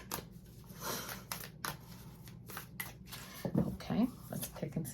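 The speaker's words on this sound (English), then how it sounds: "I'm going to give it a couple more shuffles." Akashic Tarot cards being shuffled by hand, a run of soft riffling and flicking bursts close up, with a low background hum and brief murmured talk near the end.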